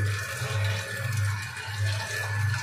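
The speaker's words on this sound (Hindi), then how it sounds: "पानी इसके अंदर स्टोर हो रहा है" Water pours steadily into the tank of a steel liquid mixer machine, a continuous loud rushing fill with a low throbbing hum underneath, close by and with no voices.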